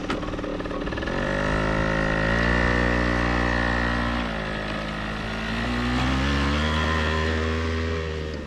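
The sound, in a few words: moped engine riding on dirt track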